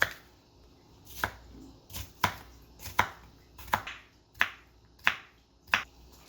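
A knife chops an onion into small pieces on a cutting board, with about a dozen sharp, close, fairly even knocks spaced roughly half a second apart and no talking.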